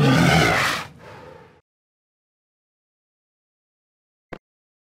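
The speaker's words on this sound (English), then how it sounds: "Walrus." A walrus lets out a loud, deep, rough grunting roar that tapers into a softer rumble over about a second and a half, then falls silent apart from a brief click.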